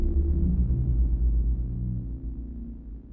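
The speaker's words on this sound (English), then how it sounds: "which gives us this sort of low animal growl kind of sound." A low synthesized growl built from twelve sawtooth synths in SuperCollider, a dense, rumbling drone with wavering, beating tones that swells then slowly fades over a few seconds.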